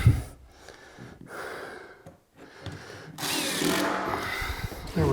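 Power drill boring into wood at a bathroom build inside a church being converted, with short bursts of whirring, a brief pause, then a longer louder run, close by with some breathing and movement.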